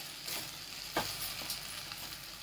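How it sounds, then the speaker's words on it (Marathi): Vegetables for veg pulao sautéing in a pan, a soft, steady sizzle with occasional light scrapes of stirring, moderately close and unbroken by talk. "पाच मिनिटं चांगलं परतून घ्यायचं"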